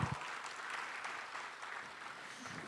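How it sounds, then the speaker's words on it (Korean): An audience at the 2021 Korea Innovation Fair opening ceremony applauding after a minister's speech, giving a steady, moderately loud burst of many hands clapping that holds evenly for a couple of seconds. "여러분 좋은 말씀 해주신 장관님께 다시 한번 큰 박수 보내주십시오"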